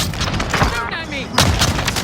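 Gunfire crackles through a combat video game, dense bursts of shots with a brief lull, set under overlapping radio-style voice chatter.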